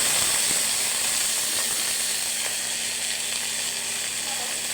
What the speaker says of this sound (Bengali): রসুন আর কাঁচামরিচ ভেজে নেব